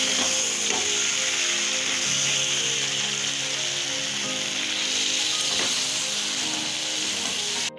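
Ground cumin, coriander and Kashmiri chili powder sizzle steadily in a hot pan for a dhaba-style chicken, a constant close frying hiss with a few faint stirring scrapes.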